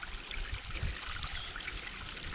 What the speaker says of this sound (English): here we have a pipe stream or spring